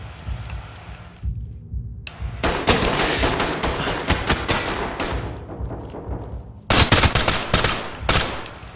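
Gunfire in the tactical shooter Ready or Not inside a night club, with loud bursts of rapid automatic fire, short pauses, then renewed sharp volleys, close and dominant with no talking.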